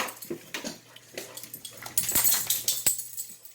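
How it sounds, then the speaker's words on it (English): Dogs in a home kitchen at night give short excited whimpers and yips, near and fairly loud, with a sharp thump or two and household clatter. "It's the time of night that the dogs are really excited."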